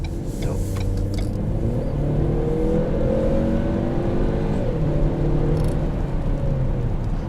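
A 2019 Ford Fusion Titanium AWD with a turbocharged engine and 6-speed automatic accelerating, heard from inside the cabin as a steady, loud engine hum with rising tones throughout.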